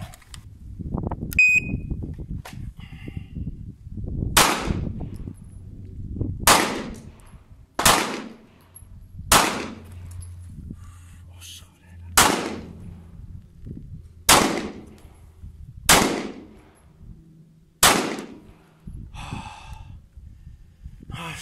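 Nine evenly spaced pistol shots from an HS SF19 fired at a paper target during an FBI qualification test, each a sharp, loud crack about two seconds apart, with no talking between them.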